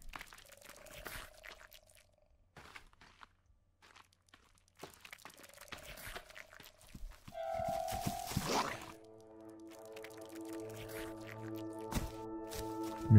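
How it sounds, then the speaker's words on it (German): Creatures in the game The Forest make wet smacking, dripping squelches, scattered and faint at first, then swelling louder with tonal game sounds layered in toward the end. "dass dieses ganze Geschmatz jetzt irgendwie lauter wird"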